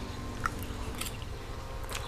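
Someone chews a bite of spicy Thai stir-fried eel with herbs; soft, close, wet chewing and a light bite sound, quiet and alone over faint background noise.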